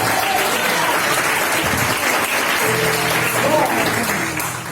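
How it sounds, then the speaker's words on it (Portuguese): A church congregation at a Barcelona service bursts into dense, steady applause that stays loud and close throughout, easing slightly at the very end. "Vou na salva de palmas."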